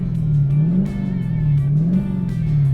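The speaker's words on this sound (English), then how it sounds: "you roll the side of your foot over to the gas to give it a little blip" Dodge Challenger R/T Scatpack Widebody with a manual gearbox, its engine rumbling loud and close with two quick throttle blips rising and falling over about three seconds.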